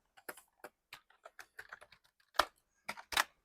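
Keys clack on a Bluefinger K98 wired RGB gaming keyboard, a close, crisp run of uneven keystrokes with short pauses and a few louder, sharper presses near the end, no talking.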